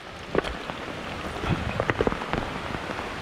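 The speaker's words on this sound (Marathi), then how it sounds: "पाऊस बघा मित्रांनो किती जोरात आला." Heavy rain falls steadily on a high hillside during a downpour, a dense, continuous patter with scattered louder drops close by and no voices.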